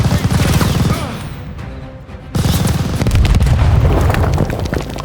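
A grenade bursts on a machine gun nest in the World War II shooter Call of Duty Vanguard. Dense gunfire and a deep boom fill the mix, with a brief lull before the heavy rumble and shooting return, loud and close.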